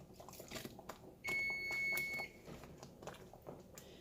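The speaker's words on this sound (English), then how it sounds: "Oh, and that is the timer for our hominy, our pozole." A kitchen timer for cooking hominy for pozole gives a single sustained high electronic beep lasting about a second, over faint chewing and kitchen clatter with no talk.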